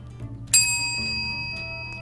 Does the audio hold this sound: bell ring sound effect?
yes